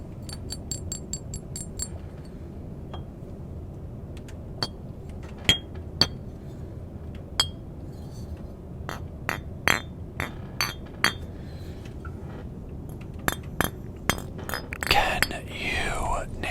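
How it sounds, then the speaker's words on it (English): Chess pieces are picked up and set down on a desk, giving a run of sharp, close clinks and taps at irregular intervals, with soft whispering underneath. "chess pieces."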